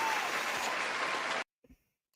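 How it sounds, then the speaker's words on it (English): Applause sound effect played during a live rugby podcast, a dense burst of clapping and crowd noise that cuts off abruptly, followed by a couple of faint knocks. "Let's put the applause on."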